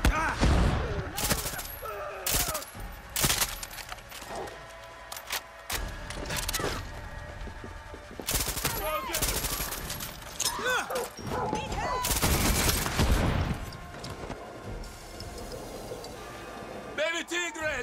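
Gunfire in the Far Cry 6 video game bursts in sharp, loud volleys and scattered single shots amid thumps and game noise, while voices talk throughout.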